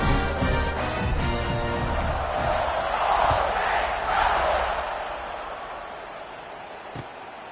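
A large stadium crowd at an American football game roars and cheers at a distance, swelling then gradually fading, with a faint thump near the end.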